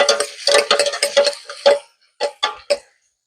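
A spoon stirs onion, green chilli and crushed garlic in a pan for beetroot curry: a quick run of close, dry scraping taps, a short pause, then three more separate strokes.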